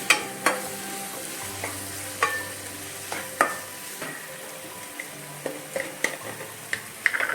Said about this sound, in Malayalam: 2 മീഡിയം സൈസിലെ ടൊമാറ്റോ അരിഞ്ഞെടുത്തത് അതിൻ്റെ ചേർത്ത് നന്നായിട്ട് ഇതിനകത്ത് വഴറ്റി